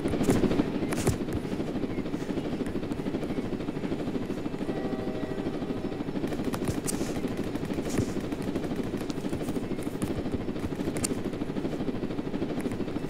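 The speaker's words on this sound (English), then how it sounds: "I'm grabbing this heli over here." Helicopter in the Roblox game Jailbreak, a steady rotor drone running throughout at moderate loudness, with occasional brief clicks and clatter over it.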